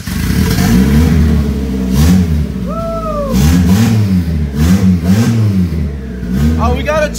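Turbocharged Honda CR-V engine mounted in an all-wheel-drive homemade go-kart with PVC piping, revving loudly in rising and falling surges close by, with a brief turbo whistle and people talking and shouting over it.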